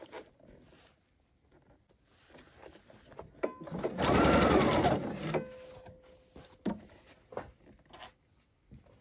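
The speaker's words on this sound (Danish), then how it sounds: "Og her syr jeg ned til jeg rammer mit sømmerum på tværs." A sewing machine stitches through three layers of fabric, with one loud, steady burst of rapid stitching in the middle, surrounded by quieter handling clicks and rustles.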